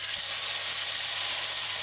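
Meat sizzles in olive oil in a hot pan for a Mexican picadillo, a steady, dense, close hiss with no voices over it.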